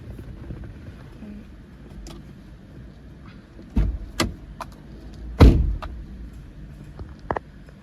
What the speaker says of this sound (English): Open and close the car door once to end the programming mode.